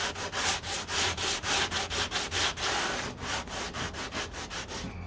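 80-grit sandpaper, flexed by hand, is rubbed over the body filler on the passenger door of a 1969 C3 Corvette, giving close, loud, rhythmic back-and-forth rasping strokes with no talk.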